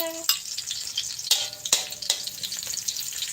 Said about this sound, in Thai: ผัดผักก่อนนะคะ